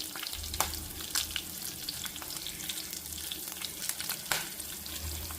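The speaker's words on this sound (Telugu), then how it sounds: "ఇప్పుడు మనము ఈ పచ్చిమిర్చి పచ్చిమిర్చి వేసుకోవాలి ఎండుమిర్చి వేసుకోవాలి" Green chillies and dry red chillies fry in a hot pan with oil and dal, giving a steady close sizzle and crackle, with light stirring scrapes and pops throughout.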